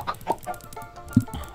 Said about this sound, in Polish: Czekaj te kurczaki, chodźcie tutaj.